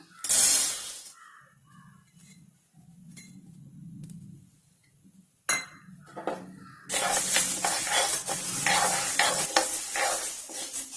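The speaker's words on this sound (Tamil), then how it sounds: "நம்ம அடுத்தது துவரம் பருப்பு வறுத்துக்கலாம்." Toor dal dry roasting in a pan: a spatula scrapes and stirs grains in short bursts with quiet gaps, then turns into continuous, louder rustling and scraping in the second half, up close.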